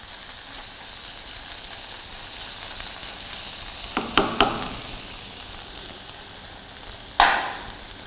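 Onions frying in a pan for classic Delhi-style butter chicken, a steady hiss of sizzling oil with a few brief clatters of a spoon stirring and one sharp scrape near the end.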